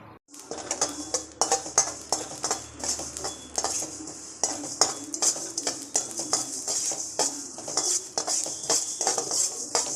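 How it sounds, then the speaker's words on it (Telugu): Mustard seeds and fenugreek frying in a kadai for tomato chutney, with steady clinks and scrapes of a metal spoon stirring against the pan throughout, close and fairly loud. "మెంతులు వేయించుకోవాలి."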